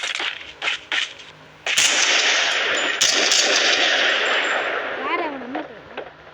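Gunfire in the mobile shooter Call of Duty Mobile: a few sharp shots, then a long loud sustained burst of fire that fades into a ringing tail, with a voice talking briefly early on.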